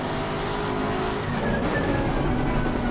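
GT3 race car engines at full throttle as a race starts in Assetto Corsa Competizione at Suzuka, loud, dense engine roar with rising revs and some tire squeal, no talk.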